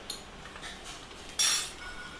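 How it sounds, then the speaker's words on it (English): A spoon scrapes and taps against a bowl while adding about three tablespoons of Amul milk powder, a few soft clinks and one brighter, louder scrape near the end, close and quiet. "I'm adding around 3 tablespoons of Amul milk powder"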